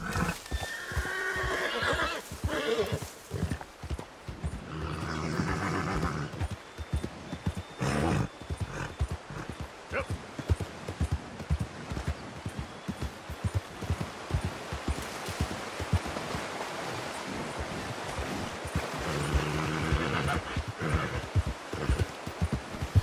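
A horse whinnies and clops its hooves in the Red Dead Redemption 2 video game, loud and close, with repeated neighs and steady hoofbeats over continuous game ambience for the whole stretch.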